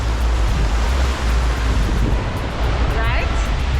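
A waterfall pours straight into the ocean near Ocho Rios, Jamaica, producing a loud, continuous broadband rush of water, with wind buffeting the microphone throughout.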